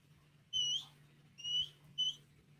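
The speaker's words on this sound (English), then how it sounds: "I don't remember the shortcut to whistle for my horse." Three short, high whistle calls to summon a horse in the Red Dead video game, each a bright rising tone over a quiet low background hum.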